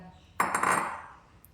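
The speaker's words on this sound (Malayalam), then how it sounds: "ചട്ടിയിലേക്ക് അത് ഞാൻ ഈ കഷ്ണം ഇട്ട് കൊടുക്കാം കേട്ടോ." Pieces of ash gourd drop into a cooking pot for a homestyle pulissery curry, making one sharp clatter that rings briefly and fades, close by with no talk.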